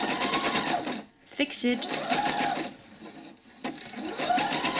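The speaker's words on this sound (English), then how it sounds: "You want to set your sewing machine on a zigzag stitch as wide as it can go." A sewing machine runs a wide zigzag stitch over yarn in steady bursts of rapid mechanical chatter, stopping briefly twice, while a person talks over it.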